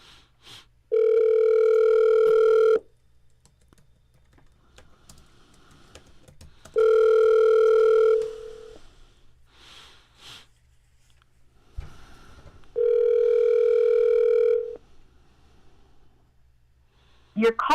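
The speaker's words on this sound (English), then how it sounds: "Calling Double K." Outgoing phone call placed through an Alexa smart speaker, giving three long ringback tones, each about two seconds, separated by pauses. The tones are loud and steady, with faint background noise between them.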